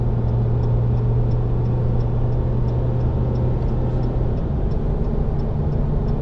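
Cabin drone of a 2020 Ram 1500 EcoDiesel pickup towing a Kubota, a steady loud low engine and road rumble with a faint regular ticking running through it.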